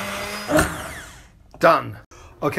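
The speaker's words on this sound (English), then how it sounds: "you add one of those and start blitzing away" A blender blitzes tea ingredients in a loud, rough whirring burst that cuts off after about a second, followed by a person speaking briefly.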